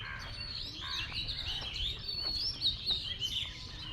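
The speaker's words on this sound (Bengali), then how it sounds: "প্রচুর পাখির ডাক শুনতে পাচ্ছি।" Many birds call in a flower garden in Badda, Dhaka, with quick high chirps and tweets overlapping continuously over a quiet low background hum.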